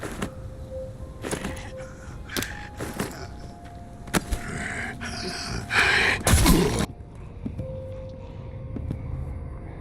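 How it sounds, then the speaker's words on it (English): Walker zombies in The Walking Dead: Saints & Sinners, a VR horror game, give raspy breaths, gasps and low growls amid clattering in-game noise, with scattered louder bursts and no talking. "The walkers sound terrifying. Their growls, footsteps, and breathing are especially creepy"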